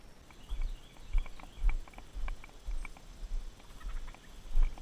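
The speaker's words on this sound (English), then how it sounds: "Turkeys!" Wild turkeys, a flock with young birds, call faintly from the brush near a pond by train tracks: soft scattered clucks and putts over low, rustling thumps and quiet outdoor ambience.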